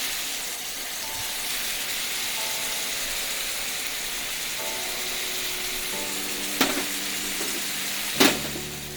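Ground beef being broken up as it fries over medium heat in a pan for spaghetti, giving a steady sizzle with faint faint utensil knocks, then two sharper scrapes near the end.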